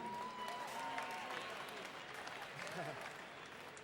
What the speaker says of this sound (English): So a big round of applause for Moe's Barbecue.